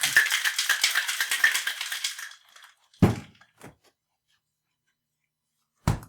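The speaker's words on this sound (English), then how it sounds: "Oh no, you're putting ice in it." Ice cubes clatter and crackle into a glass for a couple of seconds, followed by a few sharp clinks and a final knock after a pause.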